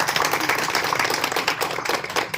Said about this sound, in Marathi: त्या सर्व विद्यार्थ्यांचं एकदा आपण टाळ्या वाजून स्वागत करतो